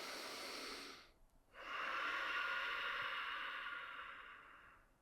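A long, steady breath drawn in during a Warrior II yoga pose, a brief pause, then a fuller exhalation lasting several seconds, close and soft with no talking over it.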